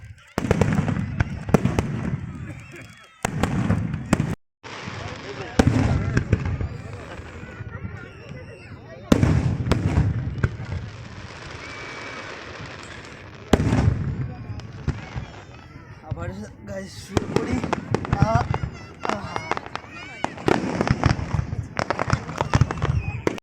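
A fireworks display over the seafront in Abu Dhabi pops and crackles in dense, repeated bursts, loud and close, with people talking throughout.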